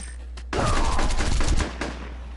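A gunship fires on snipers in the Field Commander video game: after a low hum, a sudden loud burst of rapid gunfire rattles for about a second, then trails off into fading echoes.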